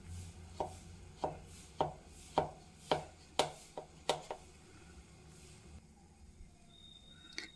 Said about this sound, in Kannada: ಆಮೇಲೆ ಗಟ್ಟಿಯಾಗಿಬಿಡುತ್ತೆ ಅಂಥೇಳಿ ಇವಾಗಲೇ ಕಟ್ ಮಾಡ್ಕೊತೀನಿ